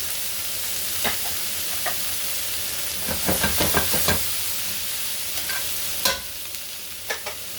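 Beef steak and broccoli stir-frying in a hot pan, a steady close sizzle broken by a burst of rapid scraping tosses in the middle and a few sharp utensil clacks near the end.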